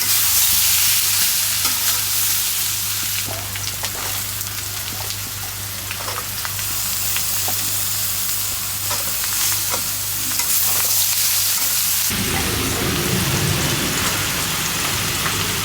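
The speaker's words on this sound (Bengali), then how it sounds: "তাতে লবণ দিচ্ছি আর এই যে আদা রসুন দিয়ে আগে ভালো করে পেঁপেটাকে ভেজে নিচ্ছি" Papaya pieces fry with ginger, garlic and salt in a pan, giving a continuous dense sizzle with occasional stirring clinks, then a sharper hiss near the end as more ingredients go in; no one talks.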